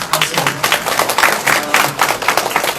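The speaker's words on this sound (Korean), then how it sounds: "우리 사모님 박수." An audience claps for a professor's wife at a book talk on Chokseongnu. The clapping is brisk and uneven, with many hands close to the microphone, and it lasts the whole time.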